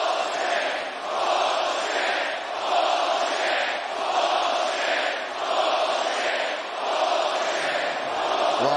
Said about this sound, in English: no surprise the crowd doesn't like it